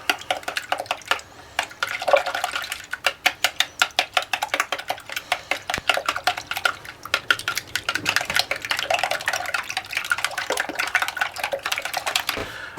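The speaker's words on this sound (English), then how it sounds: "Beat the eggs together." Eggs being beaten together in a bowl for a cheesy Amish breakfast casserole: fast, steady clicking taps of a utensil against the bowl, continuing throughout at close range.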